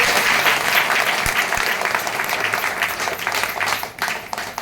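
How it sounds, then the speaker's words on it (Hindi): A church congregation at a Hindi worship service breaks into loud, sustained applause, a dense wash of many hands that gradually thins toward the end, with a couple of low thumps early on. "जोरदार तालियां परमेश्वर को।"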